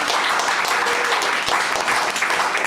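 Audience applause at a live folk music night, a thick, sustained round of clapping from a packed room with faint cheering and murmur underneath.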